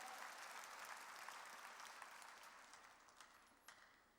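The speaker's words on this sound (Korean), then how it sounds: "다 하나가 돼야 되는 걸 믿으면 박수로 하나님께 영광 돌려야 된다 이게야" A church congregation applauds together: a sustained, even wash of many hands clapping that gradually fades toward the end, with a few sharper claps standing out.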